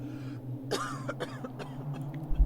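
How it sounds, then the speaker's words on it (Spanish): A single cough with a rough, throaty edge, followed by a few softer throat sounds over a steady low hum; close and fairly quiet. "Esta tos continuaba, cada vez más fuerte, como si algo se acercara."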